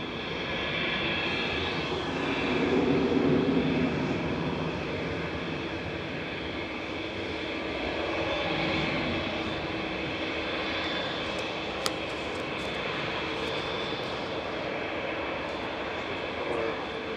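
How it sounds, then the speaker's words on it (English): An older Airbus A320 departs Manchester Airport for Sofia, its jet engines giving a moderate, sustained roar that swells early, then settles into a steady, more distant rumble with a brief click near the end and no speech. "Flight 2221 to Sofia, operated by GEZUI, an A320 Classic."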